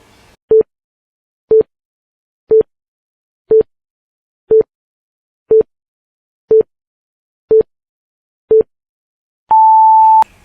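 A quiz countdown timer gives nine short, identical electronic beeps exactly one second apart, then ends on a longer, higher-pitched tone, crisp and clear against silence.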